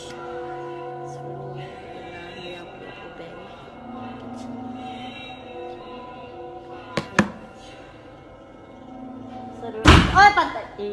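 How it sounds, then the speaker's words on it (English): A door slams shut at home during a scary moment, two sharp bangs close together followed later by a louder crashing slam, heard over a quiet tonal music bed. "the door slams shut even though they are the only two people home"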